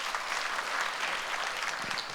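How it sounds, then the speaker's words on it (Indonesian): A church congregation applauds during a Sunday worship service, a steady dense wash of clapping from many hands that holds evenly for a couple of seconds with no voices over it. "Berikan tepuk tangan bagi Tuhan."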